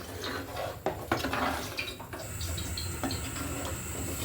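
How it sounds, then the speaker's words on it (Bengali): Water poured into a pot of chicken curry on the stove gives a close splash and gurgle with a light clink of the pot, then settles into a steady hiss and bubbling. "এবার আমি বাকি পানিগুলো দিয়ে দিচ্ছি।"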